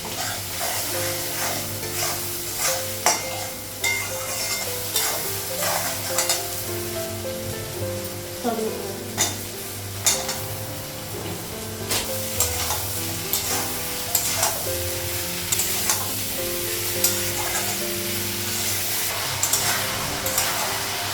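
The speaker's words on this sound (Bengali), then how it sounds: "লঙ্কার গুঁড়ো দেবো, ভেজে নেবো" Chili powder frying in a pan at home, with a steady close sizzle and repeated stirring and scraping strokes running throughout, no voices.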